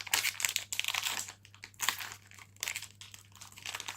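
Crinkly plastic packaging of a Poopsie Slime Surprise toy being opened by hand, a close, steady run of crackling and rustling with brief pauses.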